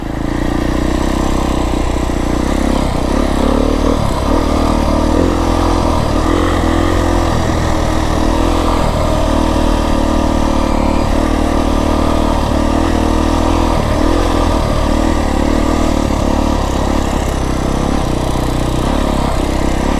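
A Beta 350 X-pro enduro motorcycle engine runs continuously while ridden on a mountain route in southern Arizona. The loud, rough drone carries small revs and throttle changes throughout, with no talking.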